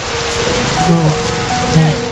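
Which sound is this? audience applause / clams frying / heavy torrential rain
heavy torrential rain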